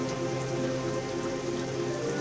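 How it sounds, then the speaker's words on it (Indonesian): Dense, steady rain falling on a surface, a constant hiss with faint droplet detail and no voices, moderately quiet throughout. "Hujan pun turun dengan lebatnya."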